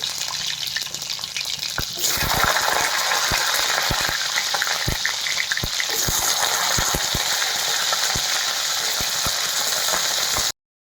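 Drumstick pieces (moringa pods) sautéing in hot oil for a Maharashtrian pithale, a steady loud sizzle with scattered sharp crackles and pops throughout, no voices.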